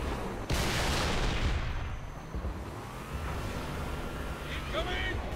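Gunfire in Halo 3 during the Covenant mission on Legendary difficulty, a loud sharp crack followed by a steady roar of combat and wind-like rumble, with in-game voices talking.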